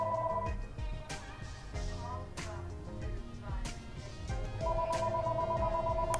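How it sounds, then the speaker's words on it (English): A landline house phone rings with a bright electronic warbling tone, clearly audible at the start and returning at the end, over a dense background of other sound. "We're gonna let the house phone stop ringing."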